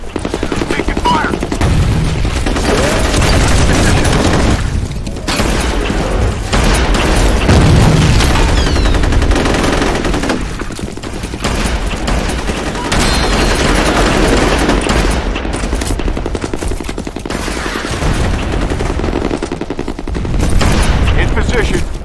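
Constant gunfire in the F.E.A.R. Combat video game, rapid automatic bursts and booming impacts layered loudly for the whole stretch, with voices occasionally speaking beneath the shooting.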